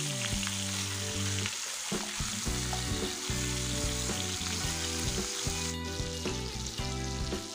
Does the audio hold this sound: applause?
no